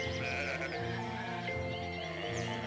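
Sheep bleat repeatedly in a pastoral setting, a few overlapping wavering calls near and clear across the whole stretch, with no talking.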